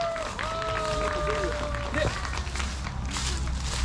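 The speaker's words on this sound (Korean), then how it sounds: "큰 박수로 받아주십시오" Audience applause welcoming a poet at a spring outdoor nature concert on a mountain, moderately loud clapping that runs under a sustained tone and some voices, swelling slightly near the middle and then continuing.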